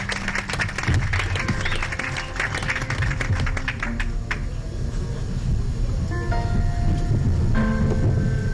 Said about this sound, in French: Pouvons-nous applaudir pour Bambi Kachila pendant qu'elle s'avance ?